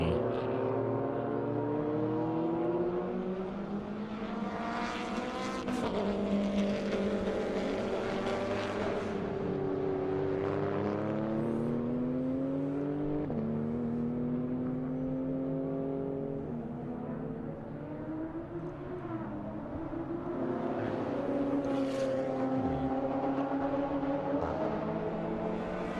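Race cars pass on the front straight at Circuit of the Americas during a time attack racing session. Several engines at full throttle keep up a loud continuous drone, and their pitch sweeps up and down as the cars go by without a break.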